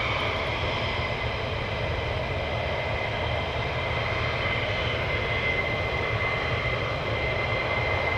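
A military jet takes off at RAF Lakenheath, a loud, steady, broad engine roar that holds unbroken throughout at close range.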